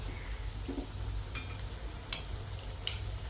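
Colocasia (taro) pieces roast in a pan over a slow flame, a quiet steady sizzle broken by a few sharp clinks of a spoon stirring against the pan.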